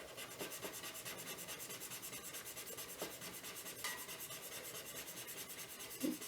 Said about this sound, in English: I've got a cotton tip here and I'm just going to see if I can sort of blend this out and smooth it.